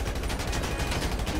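Rapid gunfire rattles in GTA V Online, a dense, continuous volley of shots that stays loud and steady for the whole moment.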